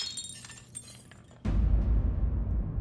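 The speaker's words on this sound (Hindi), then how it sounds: "वो कांच का गिलास पड़ा था पानी का, वो हमारे हाथ से ऐसे गिर गया, वो टूट गया हो" A glass water tumbler falls and shatters, a sudden loud crash of breaking glass that cuts in after a quieter stretch and leaves a lingering noisy tail of scattering fragments.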